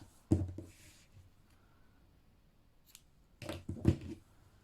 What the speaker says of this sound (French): on vient couper le fil